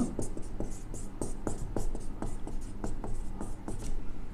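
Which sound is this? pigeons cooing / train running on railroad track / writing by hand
writing by hand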